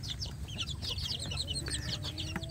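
Young free-range village chicks peeping and clucking continuously while pecking at wet feed in a box, a busy close chorus of high chirps over a low steady background hum.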